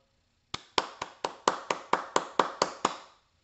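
About eleven sharp hand claps in a steady, even rhythm, close and clean with no talk, fading after each strike.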